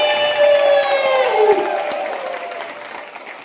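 An audience applauds at a seminar in Bhilwara, a dense wash of clapping with some voice-like tones mixed in, holding steady and then thinning slightly toward the end.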